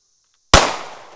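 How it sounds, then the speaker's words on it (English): A Golden Saber round fired from a Glock into a water jug, a single sharp loud blast out of silence that decays over about half a second. "the Golden Saber shooting into the water jug"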